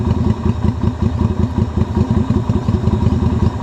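A motorcycle engine running steadily after a jump start on a weak battery, a close, loud, lumpy idle with a quick rhythmic pulse and mechanical clatter, heard alone.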